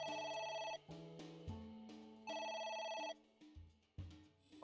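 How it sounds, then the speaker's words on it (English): A telephone rings with a loud electronic ringtone of repeating melodic tones, with bursts that start and stop in quick succession. "Ringing!"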